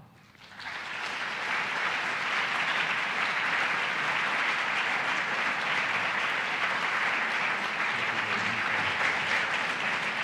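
An audience welcomes marketing professor Dr. Philip Kotler with loud, sustained applause that rises in the first second and stays dense and steady, with no talking over it.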